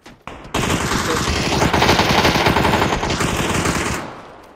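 Sustained automatic gunfire in PUBG on the Sanhok map, a loud dense burst of rapid shots lasting several seconds, close and dominating, with faint voices in the background.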